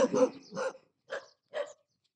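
A dog barks four times in quick succession nearby, short sharp yaps with brief pauses between them.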